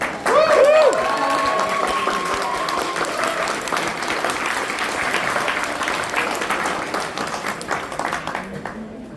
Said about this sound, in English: we just want to give one more big, huge round of applause to our speakers